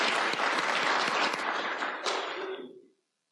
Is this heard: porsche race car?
no